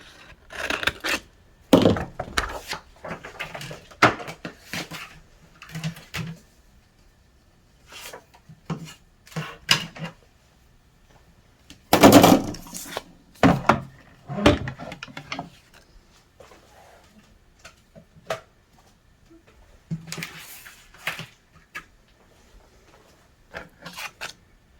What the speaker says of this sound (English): we're going to cut out one of our llamas, or you can stamp it